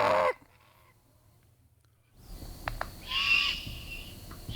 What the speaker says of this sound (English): let's play this juvenile great horned owl, Calvin, if you could.